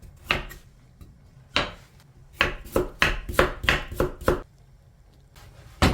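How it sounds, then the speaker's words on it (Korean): A knife chops through firm radish on a cutting board, a few scattered cuts then a quick run of steady, close strikes. "물을 300g만 해가지고 나박나박 썰어줄게요"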